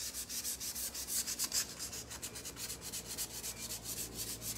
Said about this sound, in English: So I'm gonna sand my sides in just a little bit right here.